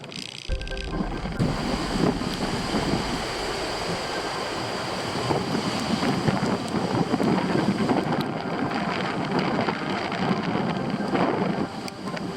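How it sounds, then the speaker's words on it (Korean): Strong wind buffets the microphone at a high scenic spot on an east-coast cycling trip as rain begins to fall, a constant loud roar with gusty swells throughout and no voices. "화면에는 잘 보이질 않지만 비가 오기 시작했다"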